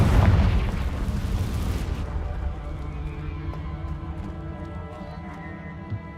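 A Confringo fire spell in Hogwarts Legacy bursts in a deep, loud explosion, its boom decaying into a long rumbling tail over several seconds.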